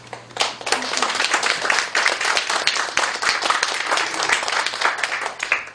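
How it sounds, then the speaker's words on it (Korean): Applause from a church gathering at a founding service for a Korean missionary church council, a lively burst of many hands clapping close and loud throughout, with a faint steady hum underneath. "우리 상임회장님 이 시간에 박수 한번 해드리고 싶어요"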